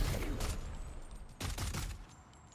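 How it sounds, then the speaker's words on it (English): A grenade launcher fires in the video game Death Stranding 2, giving two rough, rumbling bursts of blast noise, about a second apart, that fade quickly. "Oh, grenade launcher."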